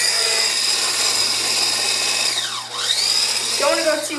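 An electric hand mixer whirs steadily in cupcake batter, its motor pitch dipping briefly and then recovering, with a constant mains hum underneath and a short clatter near the end.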